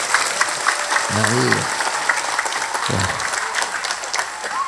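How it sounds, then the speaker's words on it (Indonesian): Clapping from the audience at a religious national address for Nahdlatul Ulama, a steady clatter of hands beneath a voice that calls out twice over it. "Beri tepuk tangan pada Nahdlatul Ulama."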